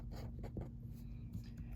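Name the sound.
writing on paper or board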